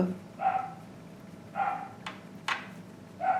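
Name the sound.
puppies play barking at each other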